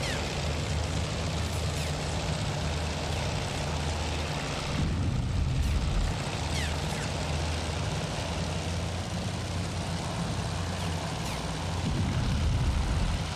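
A torpedo bomber's engine roars steadily and loudly throughout in the naval combat game Task Force: Admiral, with brief surges of heavier rumble and faint high streaks passing by.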